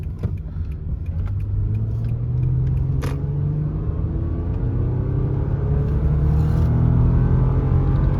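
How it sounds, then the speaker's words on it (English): A 2010 Lexus ES350 accelerating on the road, heard from inside the car, with a loud steady engine rumble and rising revs over tire and road noise, and no talk. "Let me get it up to some more speed here and see what we got."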